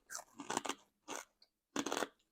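Someone bites and chews Macs spicy pork rinds, giving three loud, close crunching bursts separated by short pauses.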